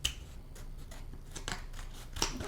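Scissors cut through material while making a cranberry apple cider, a run of quick, crisp snips, some fainter and some sharper, close to the microphone and without talk.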